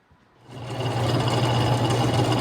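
Atlas Craftsman metal lathe taking a cut on a steel spindle spacer for a Logan 6560: motor hum rises after half a second into a steady loud whirring drone with a low mechanical rumble.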